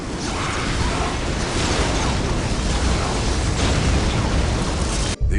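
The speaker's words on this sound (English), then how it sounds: "This area must be cleansed with orbital fire." Orbital bombardment explosion in the Warhammer 40K Dawn of War Dark Crusade game, a loud, sustained roaring blast of broadband rumble that fills the whole span without pause before a brief cut near the end.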